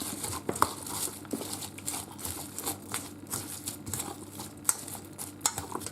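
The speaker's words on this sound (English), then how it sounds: "I'm going to use some leftover bacon grease. I'll put 2 of these spoonfuls in there, and I'm just going to mix it up." A spoon mixes leftover bacon grease inside an Instant Pot Ultra Mini 3-quart pressure cooker, giving close, irregular scraping and clicking taps against the metal pot with no talk.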